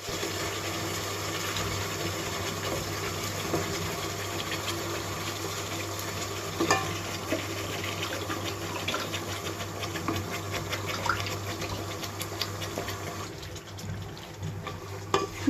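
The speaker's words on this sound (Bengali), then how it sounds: "মশলার সাথে খুব ভালো করে মিক্স করে দেব" Meat with spice paste is stirred and frying in a pot on an electric stove, a continuous crackling sizzle with occasional scrapes over a constant low electrical hum, nobody speaking.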